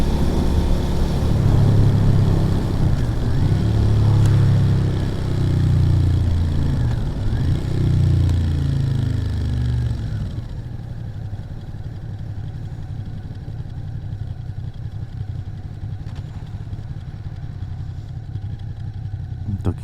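A motorcycle engine revs and pulls away loudly, its rumbling pitch climbing and dropping through gear changes. After about ten seconds it settles into a steadier, quieter drone.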